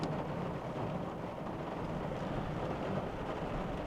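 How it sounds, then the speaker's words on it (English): Steady rain with low rumbling thunder beats down on a campsite, a dense, constant wash of noise filling the whole stretch with no voices. "Lightning, thunder. It's fine, it'll pass."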